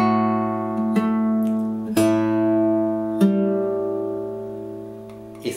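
Fingerstyle acoustic guitar plays measure 22 of a song from Toy Story 2 alone, with soft plucked notes every second or so over sustained ringing low strings, quiet and close.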